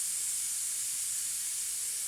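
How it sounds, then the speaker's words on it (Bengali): Bay leaves and cumin seeds sizzling in hot oil, a steady bright hiss that stays even and unbroken throughout, close and fairly loud with no talk. "তারপর তেজপাতা সাদা জিরে ফোড়ন দিলাম।"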